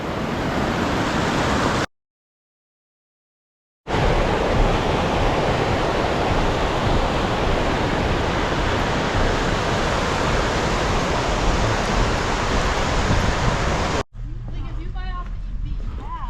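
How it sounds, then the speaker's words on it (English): Rushing water of Tahquamenon Falls, a loud steady roar of waterfall noise close by, cut by a brief gap and ending with people talking over a quieter background. "That water running hard up there"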